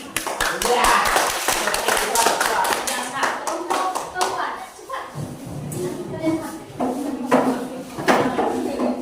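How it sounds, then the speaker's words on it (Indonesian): Classroom students clap their hands in a burst of quick, close claps, which thin out and give way to talking voices before a few more claps near the end. "Beri tepuk tangan dulu."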